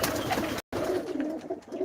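Male flying pigeons coo steadily in a loft, a soft continuous murmur of overlapping calls broken by one brief silent gap.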